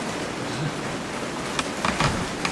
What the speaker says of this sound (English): it's getting rain now, so that's probably all you hear is rain